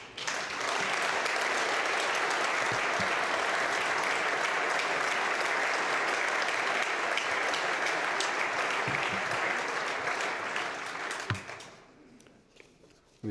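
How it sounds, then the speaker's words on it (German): Audience applause at the 2017 general assembly of the Bavarian business council, a dense steady clapping from a large hall that holds evenly for about eleven seconds, then fades out quickly. "glaube ich, ist der Beifall fällig."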